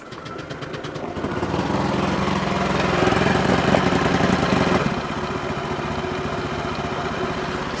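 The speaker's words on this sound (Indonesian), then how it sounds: "lalu nyalakanlah mesin" An automatic motor scooter engine starts up and settles into a steady running idle, a continuous buzzing drone with a slight rise in intensity partway through, heard alone at close range.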